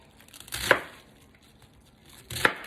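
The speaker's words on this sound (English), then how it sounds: "And then I just cut the pieces just like that." Two separate knife chops through cabbage pieces on a small chopping board, each a sharp crunchy cut with a short rustle, spaced about two seconds apart and close by.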